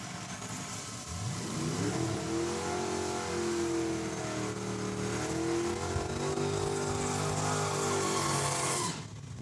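At Saskatchewan International Raceway, a drag racing car roars off the line, its engine note climbing through gear changes as the sustained, loud acceleration carries off into the distance, then stops abruptly.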